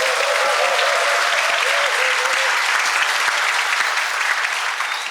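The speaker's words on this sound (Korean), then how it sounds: "한 분 한 분 소개할 때마다 힘찬 박수 부탁드립니다" Loud, dense applause from an audience at a healthcare industry labor-management meeting as dignitaries are introduced, a continuous close roar of clapping with a faint voice underneath, tapering slightly at the end.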